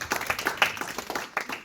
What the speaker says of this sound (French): Est-ce que vous pouvez les applaudir, s'il vous plaît?